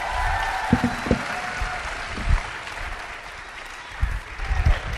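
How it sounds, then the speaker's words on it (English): Audience applause for the final panelist on a conference stage: steady broadband clapping from a crowd, fairly loud and sustained throughout, with a few louder bursts and low thumps. "for our last panelist, give her a great round of applause"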